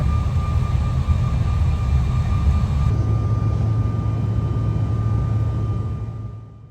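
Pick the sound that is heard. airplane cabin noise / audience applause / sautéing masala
airplane cabin noise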